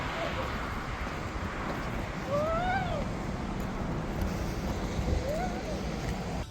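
A young boy imitates a cat with two drawn-out, rising-and-falling meows a few seconds apart, heard over steady rushing background noise.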